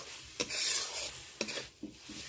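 Ground spices fried with onion and tomato in a pan over a low gas flame: soft sizzling hiss broken by a few sharp spoon scrapes and stirring strokes, close and moderately quiet.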